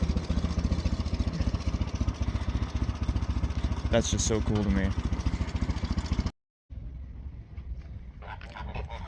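A 1940 Farmall H tractor with an M&W 9-speed transmission runs steadily close by, its engine chugging in a fast even rhythm while someone talks over it, before the sound cuts out briefly and resumes quieter.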